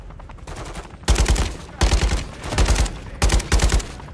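Heavy automatic gunfire in the video game Call of Duty Modern Warfare III, loud close bursts of about a second each separated by short pauses, over quieter background game sound.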